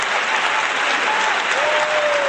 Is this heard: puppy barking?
no